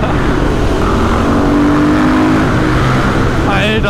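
Loud 50cc mopeds ride past at close range, their high, buzzing two-stroke engines droning steadily throughout with a rising pass-by whine near the end.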